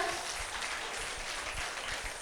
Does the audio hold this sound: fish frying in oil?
no